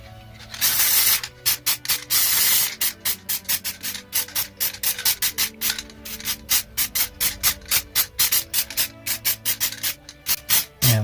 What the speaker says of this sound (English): Yeah, I love the spray paint